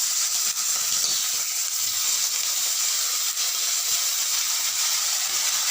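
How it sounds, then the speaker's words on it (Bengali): Small freshwater fish frying in hot oil in a home Bengali kitchen, a steady, loud, even sizzle and hiss that runs throughout without pause or speech. "এরপরে বাকি আর 3টে ভাজার জন্য তেলে দিয়ে দিচ্ছি"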